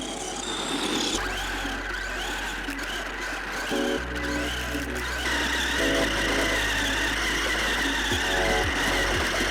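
A budget two-wheel-drive RC monster truck with a brushed motor drives nearby, its electric motor whining and surging in pitch as it accelerates and slows, with steady mechanical drone and gravelly rolling noise throughout.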